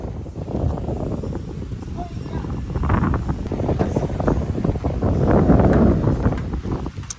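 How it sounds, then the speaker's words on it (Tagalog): Strong wind buffets an outdoor microphone in a steady, loud rumble that swells toward the end, with no break across the stretch. "Sobrang lakas ng hangin."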